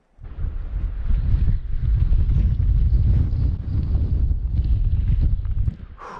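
Strong wind roars steadily across the microphone while fishing for mountain trout from the water, a loud, constant buffeting rush that fills the whole stretch and stops abruptly at the end.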